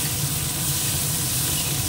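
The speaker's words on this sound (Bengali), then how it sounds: "পেঁয়াজটাকে একটু ভেজে নেবো" Chopped large onion frying in a pan for a masala prawn dish, giving a steady, close, dense sizzle that holds evenly throughout with no voices.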